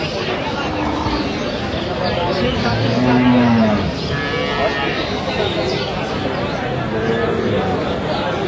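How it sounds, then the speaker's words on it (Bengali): Cows and calves at a village cattle market, one clear drawn-out moo rising and falling in the middle, set against a busy background of crowd noise and people talking. "গাভী বাছুর আমরা দেখছিলাম এখানে"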